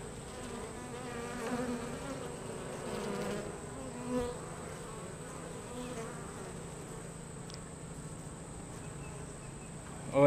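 Honey bees buzz at an opened hive after harvest: a steady, faint, close drone of many wings continues throughout, with no talking.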